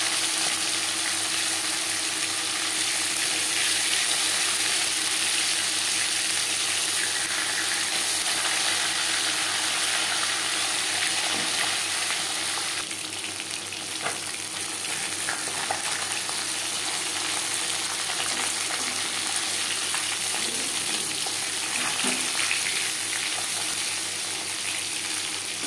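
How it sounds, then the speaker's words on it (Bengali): Tilapia fish frying in oil, a steady broad sizzling hiss close by, holding for a long stretch with faint occasional clinks and a slight dip partway through. "মাছ একটা সাইড ভাজা হয়ে গেলে অপর সাইডটা উল্টে দেবো।"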